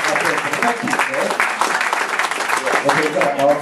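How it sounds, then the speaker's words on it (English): A round of clapping from an audience in a cruise ship bar during a print auction, a steady moderately loud patter lasting a few seconds with murmured voices mixed in. "A round of applause for our first."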